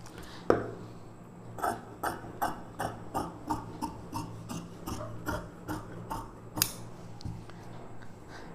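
Scissors cutting lining fabric for a lehenga blouse: a string of crisp, regular snips close to the microphone, roughly two per second, over a faint background hum, with no speech.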